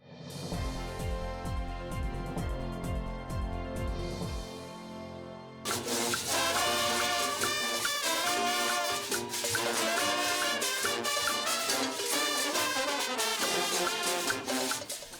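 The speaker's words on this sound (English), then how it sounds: "That's the sound of the Valley Boys, who kicked off this year's Boxing Day Junkanoo Parade" A Junkanoo band, the Valley Boys, plays at the Boxing Day Junkanoo Parade on Bay Street, a dense, loud wall of drums, horns and cowbells that surges to full volume partway through and carries on continuously.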